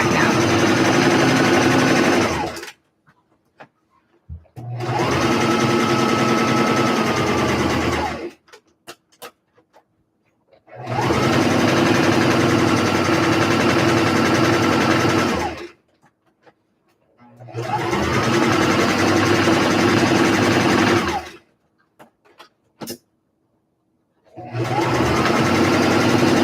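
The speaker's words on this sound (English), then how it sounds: "Okay, so we're sewing the side front, side back now." Sewing machine stitching the side front and side back seams of a vest, running in four long steady bursts separated by short pauses, close and loud with a rapid mechanical whir.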